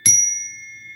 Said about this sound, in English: he's like ringing the stand bell